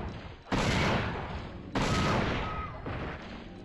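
Two heavy anti-tank rifle blasts from the Dino Crisis 2 video game, each a loud sharp boom followed by a long rumbling decay, spaced about a second apart.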